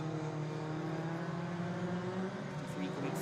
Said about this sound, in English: 53 coming through Club Corner.